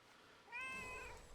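A cat pet in the World of Warcraft video game gives one clear, close, rising-and-falling meow against a faint background hum, with no talking.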